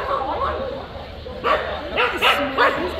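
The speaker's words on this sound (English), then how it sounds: "And then we got dogs over here." Dogs bark at a riverside gathering on Labor Day, several short close yips and barks clustered toward the end, with people talking over them.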